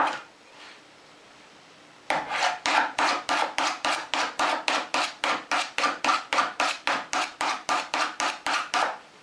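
A hammer pounds the bevel of a homemade steel card scraper in a long, steady series of sharp, evenly spaced strikes, close and loud, after a brief quieter stretch.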